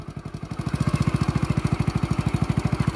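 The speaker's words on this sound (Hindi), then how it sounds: "देखिए आपका बाइक आराम से रवाना हो गया है" A learner's motorcycle pulls away in first gear, its engine thumping in a steady, even pulse that swells from a softer idle to a firmer, louder chug, recorded up close with no talking.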